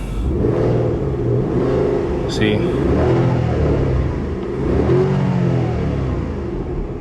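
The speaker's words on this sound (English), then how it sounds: "you can hear the turbo, but it doesn't feel like you could actually rev the car" A Porsche Panamera 970 engine revs with turbo whoosh, a rising and falling rumble with a couple of surges, under steady talking close by.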